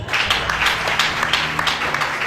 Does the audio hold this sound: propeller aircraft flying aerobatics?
no